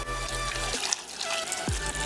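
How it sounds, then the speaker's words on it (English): Water pours from a tap over potatoes in a cooking pot. The stream is continuous and close, with a light splashing, gurgling texture and a faint hum underneath. "now let's add our water"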